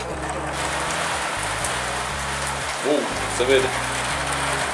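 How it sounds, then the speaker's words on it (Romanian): Heavy rain drums steadily and close against a car or surface under a low rumbling hum, with a brief voice speaking partway through. "Deci plouă în ultimul hal"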